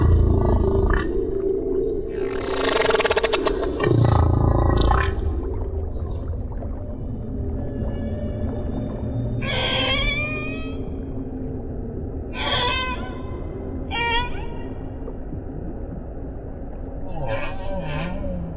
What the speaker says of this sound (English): It's possible that humpbacks have been singing their extraordinary complex songs for millions of years.